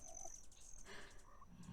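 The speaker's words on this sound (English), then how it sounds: "I have very chirpy eggs." Dinosaur eggs in a nest in the video game Beasts of Bermuda chirp softly and faintly, a few short high tweets scattered over a quiet background.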